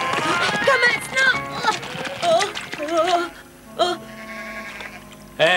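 Sheep in an animated cartoon bleat in a rapid run of wavering calls, some overlapping, over a busy soundtrack, with a lone later bleat standing out near the end.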